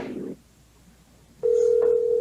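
A steady electronic ringing tone starts suddenly on a meeting conference call line after a brief muffled voice and near silence, holding loud and constant with a faint second pulse.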